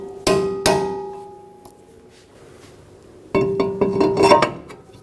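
Two sharp metallic strikes of a hammer on a punch staking a Honda Accord axle nut ring out, followed after a pause by a quick flurry of ringing taps on metal, close and loud.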